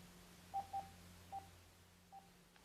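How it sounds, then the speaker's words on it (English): A Sonim Interceptor radio sounds its volume-adjust tones as the volume is stepped down: four short, faint electronic beeps spaced irregularly over low background hum. "you hear the tones start to descend"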